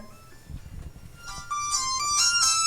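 A phone ringtone playing a song starts up after a moment of low background noise, a bright synthetic melody of repeated tonal notes growing louder and steady.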